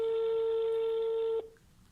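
A steady electronic phone ringing tone with harmonics holds for over a second, then cuts off abruptly, leaving quiet background.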